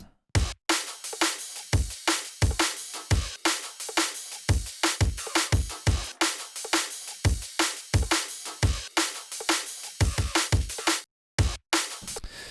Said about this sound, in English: let's start with the kick and snare. They are from one continuous loop